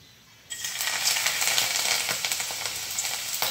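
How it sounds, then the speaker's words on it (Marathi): Bitter gourd frying in a little oil, a bright sizzling hiss that starts abruptly and holds steady with small crackles and pops from the pan, close and without talk. "जरा फ्राय करून घेऊ, म्हणजे कडू होणार नाही. थोडंसं तेलामध्ये परतून घेते."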